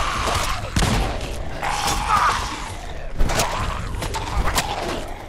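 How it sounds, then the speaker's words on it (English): Grenade blasts and gunfire in the Fallout 4 video game during a fight with ghouls, with dense repeated booms and bursts that sound close and loud, plus sharp impacts recurring throughout. "Grenade out!"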